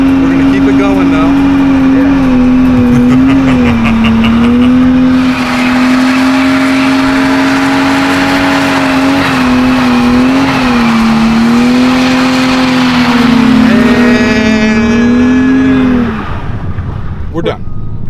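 A Ford Mustang holds a burnout with a loud, sustained engine roar and squealing tires, the pitch wavering steadily before the engine note drops off near the end.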